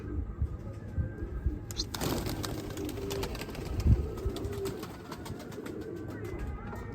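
A pigeon coos close by, outdoors, with a burst of sound and a thump partway through over steady low background rumble.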